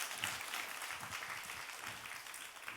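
Quiet, distant applause from a church congregation at a youth worship service, a steady wash of clapping throughout with no talk over it.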